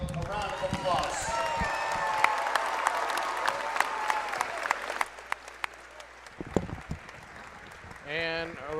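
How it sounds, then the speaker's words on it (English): A crowd applauds in a gym at a high school boys basketball game, clapping steadily with scattered sharp bangs and a voice over a loudspeaker, fading near the end. "At this time, we'd like to give Coach Blundo a round of applause."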